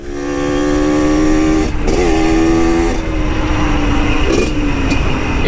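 Close, loud engine of a Yamaha DT 125 dirt bike while riding, a buzzing two-stroke note that rises and falls through several gear changes on a road before it turns off-road.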